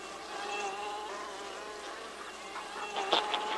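Swarm of bees buzzing around a beehive in the wild, a steady faint drone of many insects with a few nearer passes.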